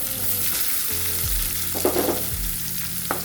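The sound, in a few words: onions frying in a pan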